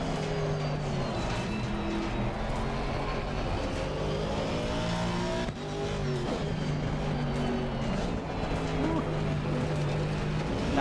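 An Aston Martin in a racing video game drones along with a steady, loud engine note that shifts in pitch, near and continuous, with brief dips as the revs change.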